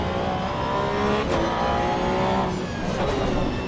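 Porsche race car in Assetto Corsa EVO at Spa, engine howling steadily at high revs with tire noise, one continuous loud drive with slight pitch shifts and no talking.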